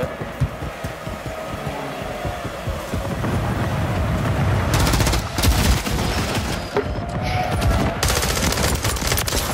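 Rapid bursts of gunfire from a Call of Duty match fill the mix continuously, loud and dense throughout, with scattered louder shots and booms.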